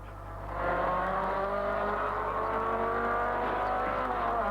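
A race car engine from the 1980 Bathurst 1000 drones loud and steady, a sustained high-revving note with harmonic whine that swells up early and holds close throughout.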